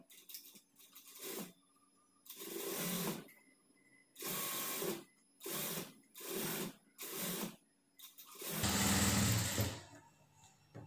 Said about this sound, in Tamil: இந்த பிசுறு மறையிற மாதிரி இந்த கிளாத்த வந்து மடிச்சிட்டு தையல் போட்டுக்கலாம்.